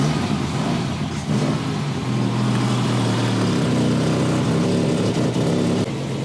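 A Volvo 164 engine runs on freshly adjusted Stromberg 175CD carburettors, a loud, close, steady mechanical drone with a slight rise in revs partway through and no talking.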